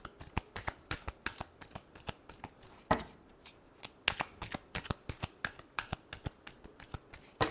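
Tarot cards being shuffled by hand in quick repeated riffles, a rapid crisp rhythm of sharp snapping bursts, close and clear with no talk over them.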